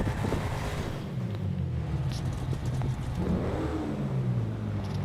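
Car engine in Grand Theft Auto V humming and revving in a garage setting, with a low, steady drone that rises and falls a couple of times.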